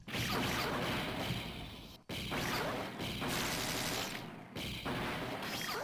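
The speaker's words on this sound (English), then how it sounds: "It's really important to have this Heavy machine gun." Heavy machine gun fire in an arcade video game, a fast continuous rattle mixed with crashing impacts and whooshes, fairly quiet with brief breaks between bursts.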